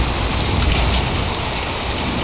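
Heavy rain and hail pour down during a storm in a loud, dense, steady hiss of impacts, close by and constant, with no voices.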